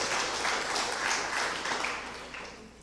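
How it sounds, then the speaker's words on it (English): Members of the Felicity community at a Hindu school gathering clap as a crowd, a dense round of applause that holds steady and then tapers off toward the end, with no speech over it. "So I want you all to give yourselves, members of Felicity, a round of applause."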